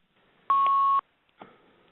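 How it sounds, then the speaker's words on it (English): A single steady electronic tone of about half a second sounds on a telephone conference call line, loud and clean, followed by a faint brief rustle. "I apologize about the beep."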